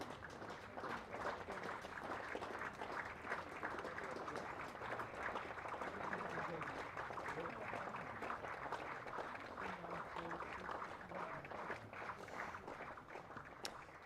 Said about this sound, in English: We'll let you hear the applause as he leaves the field.